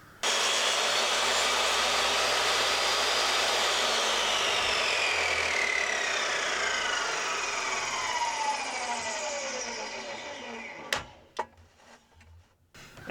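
A power saw blade cuts through a wood flooring transition strip, a loud sustained whine that slowly falls in pitch as the cut progresses, then winds down with a few sharp knocks near the end.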